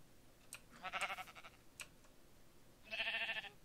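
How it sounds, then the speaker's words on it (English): Sheep in a video game bleating in short, harmonically rich cries, two separate bleats a couple of seconds apart with faint clicks between, fairly quiet and with no talk over them. "here's some of the sheep from before"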